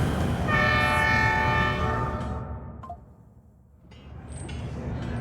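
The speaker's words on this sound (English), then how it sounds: "There's the train" In the video game Rogue Trader, a train sounds a loud sustained horn over a heavy rumble of rail cars, then fades to a quieter low roll before the noise builds again.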